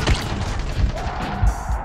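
A burst of explosions in the zombie game Dying Light: several heavy low booms and crashing impacts thud in quick succession, close and loud, across a short, noisy stretch.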